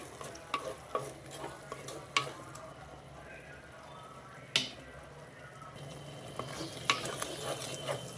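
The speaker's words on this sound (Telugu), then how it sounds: "ఈ కారం కొంచెం ఈ ఆయిల్లో మగ్గాలి" Chili powder frying in oil in a pan, a soft steady sizzle with scattered spoon scrapes and stirring clinks, close and fairly quiet with no talk.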